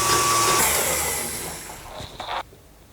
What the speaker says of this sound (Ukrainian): Та збиваємо в не дуже плотну меренгу.